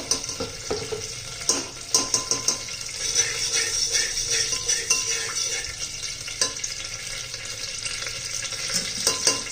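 Ghee heating in a pan for a chicken dish sizzles and crackles steadily, with scattered pops and spoon clinks over a constant frying hiss.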